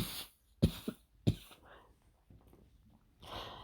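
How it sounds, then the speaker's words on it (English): A few sharp coughs, close and fairly quiet, separated by pauses with soft breathing and a longer raspy exhale at the end. "Excuse me for my coughing."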